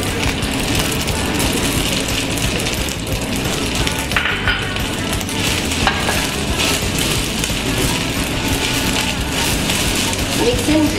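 Buttered rice stir-fried with spring onions and cilantro, a steady close sizzle and scraping of the pan running continuously under a speaking voice.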